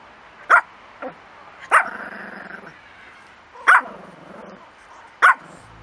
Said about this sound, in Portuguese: Em algumas situações, ele pode latir muito e é preciso estar preparado para isso.